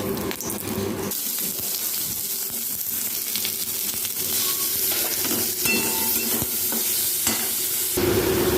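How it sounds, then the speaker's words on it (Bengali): Paneer shallow frying in ghee sizzles and crackles steadily in a pan, with occasional scrapes and stirring clinks of a utensil, close and continuous throughout. "ঘিয়ের মধ্যে আমি কিন্তু পনিরগুলোকে হালকা করে শ্যালো ফ্রাই করে নেব"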